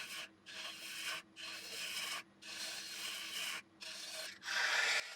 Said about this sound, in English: I'm just hollowing it out now with a carbide, the Axminster Evolution